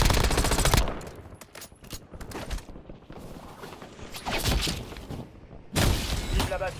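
Rapid bursts of automatic gunfire from a Call of Duty Warzone match, loud at first, then scattered shots and clattering impacts, with a final heavy burst of firing near the end.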